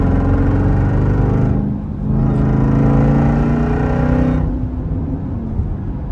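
A Jeep Trackhawk engine revs loudly and close while driving in snow, its pitch rising and falling through gear changes as it accelerates, with no talking.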